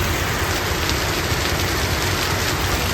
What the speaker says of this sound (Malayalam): ഭയങ്കര മഴയാണ് കേട്ടോ